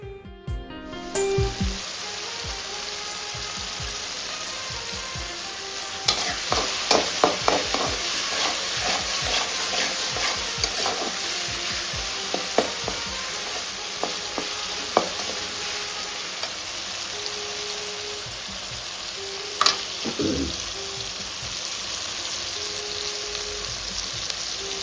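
Spices such as chili powder, turmeric and asafoetida sizzle steadily in hot oil for a tomato-egg rice dish, with scattered stirring scrapes and clicks rising above the constant fry.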